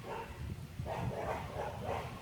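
Several dogs bark continuously in the background of a summer garden, forming a muffled, distant, overlapping chorus of barks.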